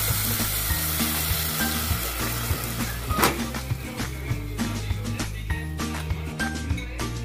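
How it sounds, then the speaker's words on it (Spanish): Ground guajillo chile salsa hits a hot pan and fries with a loud, steady sizzle and crackle, while a spoon stirs and scrapes with occasional metallic clinks against the pan, all close up. "Y aquí voy a guisar la salsa que molí con el chile guajillo."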